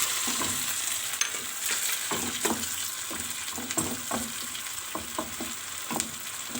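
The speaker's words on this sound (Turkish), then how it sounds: "Tomatelerimizin azıcık kavrulması gerekiyor." Steady sizzling of onions and tomatoes frying in a pan, with repeated scraping and stirring knocks from a utensil throughout.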